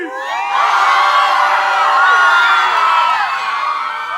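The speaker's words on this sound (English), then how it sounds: "Everybody, scream!" A large crowd of young people screams, whoops and cheers loudly and continuously, a sustained wall of high-pitched voices.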